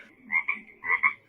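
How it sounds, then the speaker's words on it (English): Two loud, close frog croaks sound in quick succession, each a double-pulsed ribbit, with a short pause between them and no talking over them. "Crack, ribbit. Loud frog."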